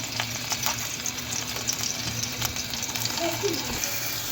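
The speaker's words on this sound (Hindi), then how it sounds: "ऑयल गर्म हो चुका है, अब हम आलूओं को रख लेंगे इस तरह से" Potatoes laid into a hot oiled pan over full flame, giving a continuous loud sizzle with a low hum beneath and faint handling clinks, no talk heard.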